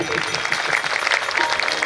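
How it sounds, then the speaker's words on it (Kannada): Loud applause rises from the audience at a village fair, a dense steady clatter of clapping hands that fills the whole moment without pause. "ಅಪ್ಪವ್ರ ಜೋರಾದ ಚಪ್ಪಾಳೆ"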